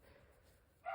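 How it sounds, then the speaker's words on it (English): A dog barks outside near the end, a short burst of loud barking after quiet background. "You can probably hear my dog barking."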